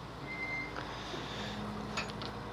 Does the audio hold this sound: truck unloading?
yes